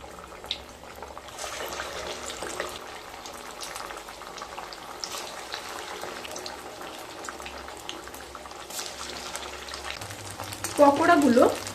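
Sago (sabudana) pakoras frying in hot oil, giving a low, continuous bubbling sizzle that swells into a louder, closer burst of crackling near the end, with no talk.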